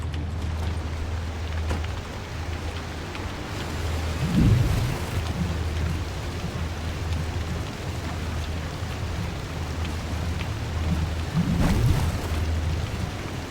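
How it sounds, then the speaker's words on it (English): A thunderstorm in the video game Pacific Drive: steady heavy rain hisses throughout, with two deep rolls of thunder rumbling up partway through. "And there's the storm."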